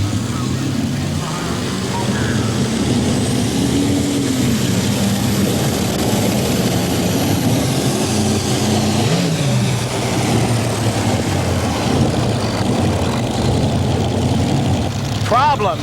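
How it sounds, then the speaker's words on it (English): An International Harvester pro stock pulling tractor in the 12,000-pound class at a Bowling Green pull, its big engine droning and rising in pitch, loud and continuous with an announcer talking over it. "he brings that big international harvester machine to the starting line right now"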